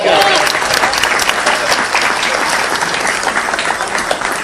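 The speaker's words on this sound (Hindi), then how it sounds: "एक बार जोरदार तालियां बजाइए" A Hindi comedy poetry gathering, a hasya kavi sammelan, fills with loud, dense audience applause that holds steady from start to finish.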